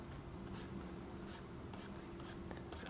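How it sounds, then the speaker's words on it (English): Felt nib pen drawing on an XPPen Deco Pro gen 2 pen tablet: a soft, continuous scratchy friction of the nib across the textured surface, close and faint, with no talking. "the experience with drawing with the felt nib is really nice"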